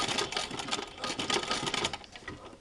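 A Singer 15-88 sewing machine fitted with a zigzagger runs steadily at close range, its rapid, busy mechanical chatter continuous throughout with slight surges in intensity.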